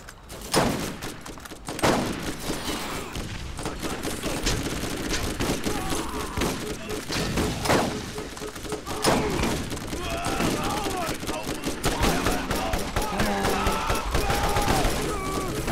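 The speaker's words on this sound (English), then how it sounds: "These guys have rocket launchers." Nonstop Borderlands combat with rapid gunfire and heavy thumping blasts from enemy rocket launchers, crowded and loud throughout while someone talks over the action.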